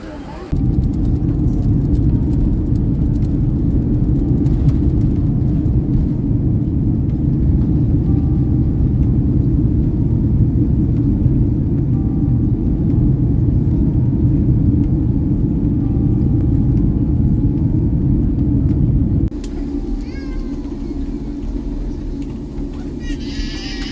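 An airplane cabin on a flight bound for Vietnam carries a loud, constant low engine drone that holds steady for about twenty seconds, then drops to a quieter hum as fainter background sounds appear.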